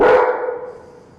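A single loud, close dog bark rings out in a city commission meeting chamber, then decays quickly into the room's reverberation.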